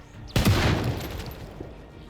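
One loud video game gunshot bursts out near the start, followed by a decaying rumble and faint echo as the noise settles.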